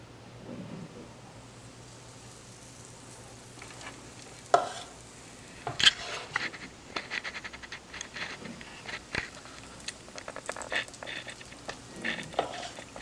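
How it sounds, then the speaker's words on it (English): A fritter is lowered into hot oil over medium heat and fries with a soft, steady sizzle, broken by scattered clicks and a few sharper bumps from the pan and utensil. "now I'm going to put my fritter in the oil"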